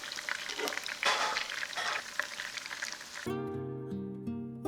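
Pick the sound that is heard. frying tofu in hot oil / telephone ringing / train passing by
frying tofu in hot oil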